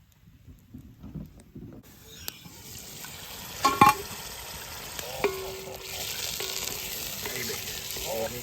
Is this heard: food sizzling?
yes